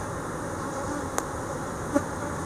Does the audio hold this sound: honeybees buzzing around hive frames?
yes